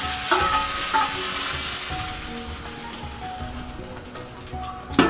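Hot tempering (tarka) poured over dhaba-style dal fry, giving a steady close sizzle with light stirring and a few sharp pops, a brief clatter at the end.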